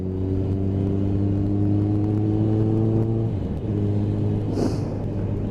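A Suzuki GSX650F motorcycle engine drones loud and steady while riding, holding an even tone before a brief dip and shift in pitch midway, then settling back into a constant hum with no speech.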